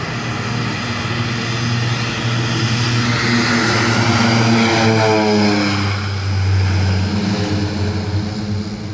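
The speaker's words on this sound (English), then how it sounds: "Winair, Twin Otter, departure, Canefield Airport" A Winair Twin Otter twin-engine propeller plane departs Canefield Airport, its engines roaring loud and steady with a droning propeller tone that shifts in pitch as the aircraft moves past and away.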